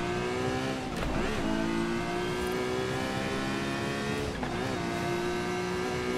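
A Ferrari FXX K engine roars from the cabin in Forza Horizon 5, a loud high-revving whine climbing steadily with gear-shift dips, alone and continuous.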